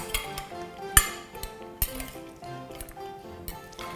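Cherry tomato salad with shrimp is tossed in a bowl, giving irregular clinks and scrapes of a utensil against the dish, with a couple of sharper knocks among softer stirring sounds.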